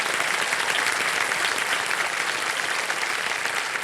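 A studio audience on a TV quiz show claps loudly and continuously, a thick, even roar of applause with no pauses.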